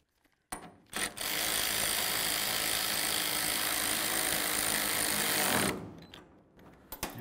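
Power ratchet snugging a bolt on the tailgate cable of a 1999–2006 Chevy Silverado, a loud continuous mechanical buzz running about five seconds after a couple of short bursts, then stopping.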